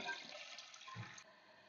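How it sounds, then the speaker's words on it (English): A repaired toilet that had been running flushes with a steady rush of water that drains away, then quiets into a softer trickle as the tank starts to refill, heard close up and alone. "just hold the lever down, and that'll give you a longer flush."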